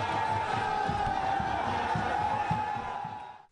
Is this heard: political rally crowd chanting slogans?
yes